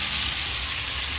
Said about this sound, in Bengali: বিনস গাজর আলুটাও লাল করে সুন্দর করে একটু ভেজে নিচ্ছি